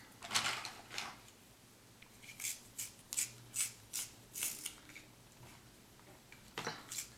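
A makeup liner pencil is twisted in a small handheld sharpener close by, a faint series of rhythmic scraping, grinding strokes repeating about twice per second.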